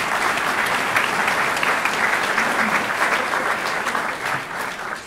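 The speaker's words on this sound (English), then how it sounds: "Please, a big round of applause for all of our pastors." A community gathering audience applauds the pastors, steady dense clapping filling the whole stretch at close range with no pause or voices on top.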